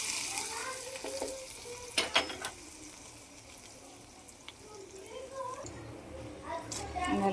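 Hot tadka tempering is poured into coconut chutney and sizzles up close, with a few clinks of utensils and stirring; a voice talks over parts of it.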